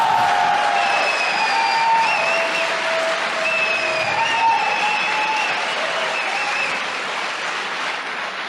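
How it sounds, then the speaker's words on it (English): A crowd yells, shouts and claps in a continuous roar to disrupt a talk. The din is broad and sustained, with a few shrill whistle-like tones running through it. "You hear people yelling and shouting, trying to disrupt it."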